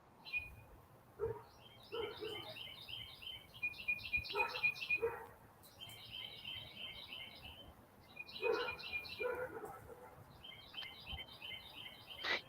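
Outdoor bird calls sound in repeated bursts of high, quick chirps, moderately close, with soft background noise and faint knocks between phrases where chickens are kept.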